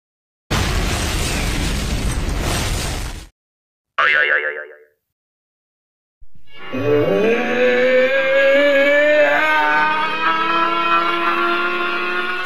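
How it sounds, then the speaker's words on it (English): A cartoon bomb goes off in a loud, sustained noisy blast lasting about three seconds. A short springy boing follows, then music comes in. "Uh-oh, another bomb!"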